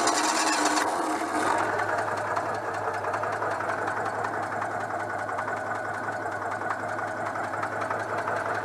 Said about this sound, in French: Donc quand par exemple je démarre le moteur,